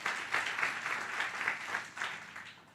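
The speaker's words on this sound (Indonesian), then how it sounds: "kalau mau tepuk tangannya yang paling meriah buat Yesus." Church congregation applauding enthusiastically during a sermon, a dense, steady clapping that swells in waves and stays loud and close throughout, with no talk over it.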